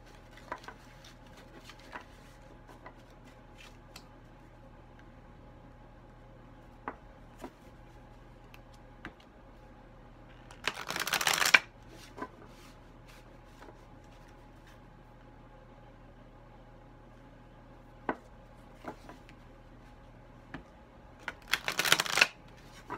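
A new deck of playing cards is shuffled in two short bursts of fluttering riffle, one near the middle and one near the end, between quiet stretches with scattered clicks and taps.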